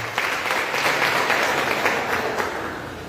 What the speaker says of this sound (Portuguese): E a igreja aplaude o Senhor porque Ele merece.